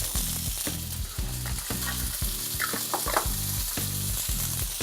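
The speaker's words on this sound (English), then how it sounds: "add the asparagus into the pan" Asparagus hitting hot oil in a pan, a loud steady sizzle with rhythmic stirring or scraping underneath, close up and without speech.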